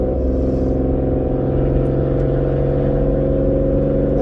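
Small Chevrolet Matiz engine revving steadily, a loud, continuous, deep, truck-like drone with layered harmonics held at a constant level throughout.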